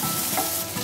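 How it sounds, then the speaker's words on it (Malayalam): Garlic, ginger, green chillies and curry leaves sautéing in a pan on medium flame give a loud, continuous close-up sizzle and frying hiss, with some stirring noise and no voices. "രണ്ട് പച്ചമുളക്, കുറച്ച് വേപ്പില ചേർത്ത് ഒരു രണ്ട് മിനിറ്റ് നന്നായിട്ടൊന്ന് സോട്ട് ചെയ്യാം."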